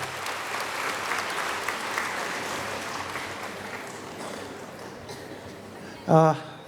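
Parents at a school annual day in Mysuru applaud in a sustained round of clapping that slowly thins out, ending with a brief loud burst of voice or noise close to the microphone.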